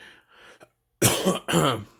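A person with a cold coughs twice in quick succession, close and loud, after a softer throat sound.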